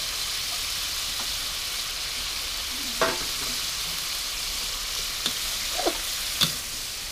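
Hokkien noodles with choy sum stir-frying in a hot pan give a steady, hissing sizzle, broken by a few sharp clinks and scrapes of the utensil against the metal.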